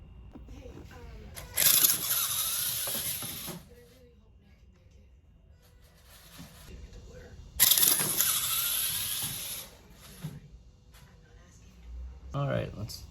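A small electric motor in a converted Lego RC car, weighing about 685 grams, runs at partial throttle. It gives two loud whirring bursts of a couple of seconds each, with quieter stretches between them and a short third burst at the end.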